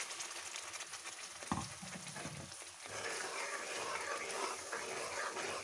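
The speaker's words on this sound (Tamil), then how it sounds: "இப்போ நம்ம இதை அந்த எண்ணெயில் போட்டுடலாம் அந்த மசாலாவை. வதங்கட்டும்" Channa masala paste hits hot oil and fries with a soft steady sizzle, a few stirring scrapes and clatters in the middle, then a fuller, even crackle that continues quietly to the end.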